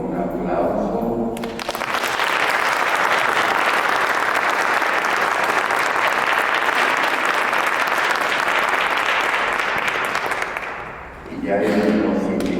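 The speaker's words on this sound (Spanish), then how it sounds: "Les pido que lo recibamos al Padre Ricardo con un aplauso." A lecture audience claps in long, dense, sustained applause to welcome a priest, Father Ricardo, rising quickly and holding strong for about ten seconds before fading, with a voice speaking briefly before and after.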